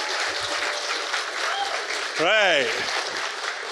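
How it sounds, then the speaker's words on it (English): Audience at an expo awards event applauding for students, a sustained wash of clapping with a brief voice spoken over it. "just because I like to see you all clap hands"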